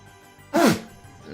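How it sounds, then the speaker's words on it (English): A single sharp sneeze bursts out close and loud, brief and sudden, against a quiet background. "Excuse me. I got a big sneeze."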